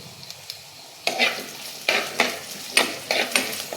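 Small shallots sizzle and fry in a pan, with faint scattered clicks giving way after a second to repeated bursts of stirring scrapes in an uneven rhythm over a steady hiss, close and fairly loud.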